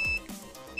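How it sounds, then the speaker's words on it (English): A short electronic beep from a workout interval timer during a dumbbell and bodyweight HIIT circuit, a single clean tone at the start followed by a brief second one at the end. "right to that beep"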